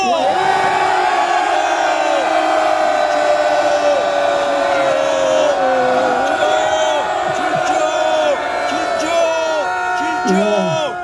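A large crowd at a protest press conference roaring and shouting together toward the presidential office in a sustained, loud collective yell that holds steady for several seconds.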